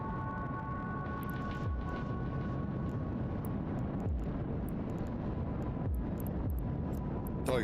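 A spaceship afterburner in Eve Online drones steadily with a low rumbling roar and faint high tones, running continuously for several seconds with no one talking.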